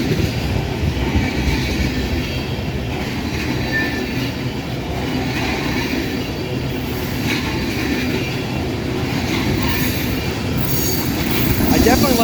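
A CSX ethanol tank train led by a CN GEVO locomotive rumbles past close by, with steady rolling wheel noise, clanking cars and occasional squealing wheels throughout.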